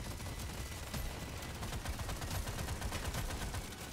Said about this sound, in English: So we shoot all of our chain gun, then we turn around and shoot all of our other gun.